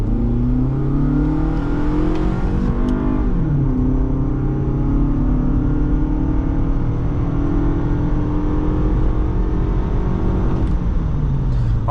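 The 2.4-liter engine of a 2008 Toyota RAV4 revs up under hard acceleration, a raspy rising drone climbing through the gears with a shift dip, heard loud and steady from inside the cabin with no talking.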